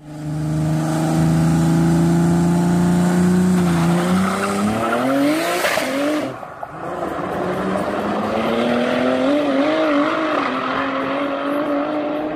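A BMW E46 drag car with an M50 engine revs loudly and steadily, the pitch climbing and dipping in long sustained pulls with a brief lull midway, running without boost and unable to rev past about 3000.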